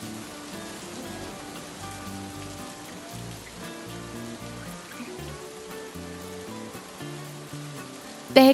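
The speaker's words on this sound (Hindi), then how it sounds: "तहखाने की पत्थर की छत के ऊपर गिरती तेज बारिश अंदर गूंज रही है" Heavy rain pounding on the stone roof of an underground cellar, a dense, continuous hiss and patter echoing inside, with faint low tonal sounds beneath and a brief sharp knock at the very end.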